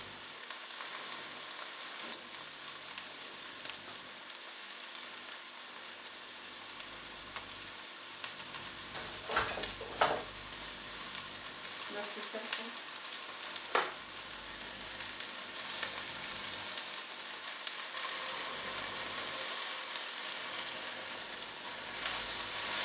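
Green curry made with a cook-in sauce sizzles steadily in a pan, a continuous hiss broken by a few sharp pops and crackles, with no talk.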